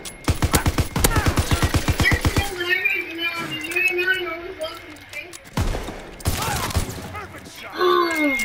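Rapid automatic gunfire from a Call of Duty: WWII match fires in a tight burst of about a dozen shots at the start, followed by a player's voice talking, with further close, sharp bursts later on.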